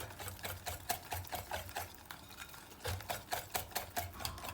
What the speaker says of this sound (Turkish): Pürüzsüz olana kadar çırpıyorum şimdi.